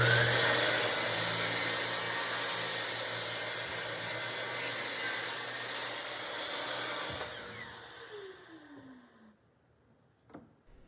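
Power saw whining steadily through 3/4 inch plywood for a tapering jig base, loud and continuous, then winding down to a fading spin and near silence.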